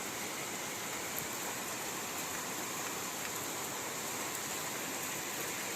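Heavy rain pours down steadily, a dense, unbroken hiss of falling water that stays loud and even throughout with no voices.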